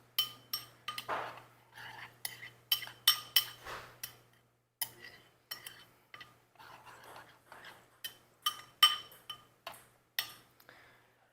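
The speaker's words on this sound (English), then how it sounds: "we got a spoon, so we'll give this a little stir here" A spoon stirs chimichurri sauce in a bowl, giving a string of light, close clinks and taps against the dish in an irregular rhythm, with soft scraping between them and a faint low hum underneath.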